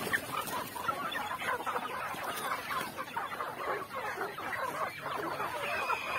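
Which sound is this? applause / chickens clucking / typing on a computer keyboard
chickens clucking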